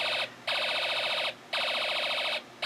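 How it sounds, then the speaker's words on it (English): Snap Circuits alarm IC toy circuit playing its laser gun sound effect: three loud, buzzy electronic bursts with short gaps between them, close up and alone. "the alarm IC is producing the laser gun sound effect"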